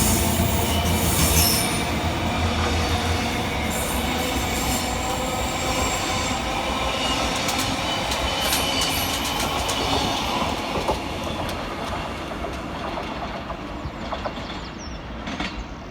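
Scotrail Class 385 electric passenger train 385104 arriving at Haymarket station in Edinburgh, a long rumbling approach with rhythmic wheel clatter and squealing wheels that slowly fades as it slows.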